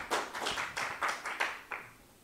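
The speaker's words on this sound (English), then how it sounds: "A big applause to be given for Dr. Chella" Audience applause at a talk, heard as a quiet sequence of about eight distinct hand claps in an uneven rhythm, faint and close, with no talking.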